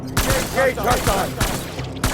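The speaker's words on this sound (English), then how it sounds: "Taking fire!" Gunfire erupts in the video game Death Stranding, a rapid fusillade of loud, sharp shots repeating in quick bursts, with voices briefly overlapping.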